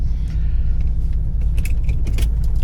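A 2001 Pontiac F-Body with an LS1 engine and T56 gearbox cruises with a loud, steady low rumble, a few light rattles and clicks over the drone.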